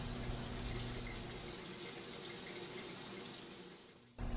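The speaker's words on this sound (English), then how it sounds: "open the drain, allowing the shortening to fill the unit" Hot shortening drains from a Collectramatic fryer's open drain valve into a filtration unit, a steady pouring rush that fades slightly before stopping abruptly, followed by a faint thud.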